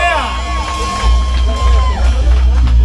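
A live crowd at a music set in a bar in Tepito, Mexico City, cheers and whoops amid thumping low bass and a sustained tone, with loud shouts and babble rising over the music.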